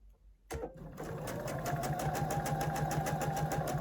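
A sewing machine starts abruptly and stitches fabric pieces for placemats, a close, rapid, evenly pulsing mechanical whir that holds steady after a brief quiet moment.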